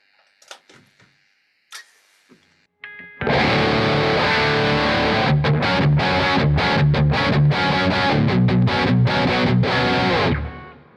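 An electric guitar played through a Kemper Profiler amp profile with reverb and graphic EQ sounds after a few sparse clicks: loud, distorted chugging riffs with sharp rhythmic stops, continuing for about seven seconds before cutting off.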